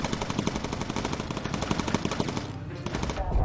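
Machine guns rattle from the turrets of a bomber in the video game Bomber Crew. The bursts are rapid and steady, loud and close, and they run almost without a break before easing off near the end.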